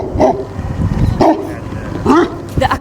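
An Alabai dog in Turkmenistan barks in four loud, deep, separate woofs spaced under a second apart, close by, with a voice talking over them.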